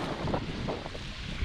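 Strong wind blows on an exposed Scottish hillside, roaring and buffeting the microphone without a break for a brief moment.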